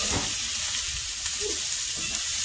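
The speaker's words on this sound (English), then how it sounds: "I've already got about a tablespoon or so of some bacon grease, and then we're going to add the onion" Onion frying in bacon grease, a dense, loud sizzle close at hand with soft stirring scrapes running beneath it and no speech.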